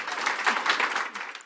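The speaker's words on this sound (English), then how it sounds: "Give another round of applause" A conference audience at a physics intern symposium applauds in a brief, steady burst of many hands clapping together, moderately loud in the room.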